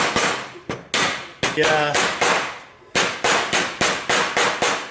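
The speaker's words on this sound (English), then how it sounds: "Peter's going to do the seal. Rubber mallet. Soft hammer." Rubber mallet, a soft hammer, knocks a seal into place around its housing with a series of sharp, close blows, some quick and some spaced, with a brief spoken word among the hits.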